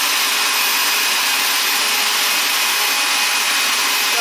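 Homemade powered bead roller driven by a Harbor Freight pipe threader running steadily, a loud constant motor whine and grinding hiss close by, with no voices.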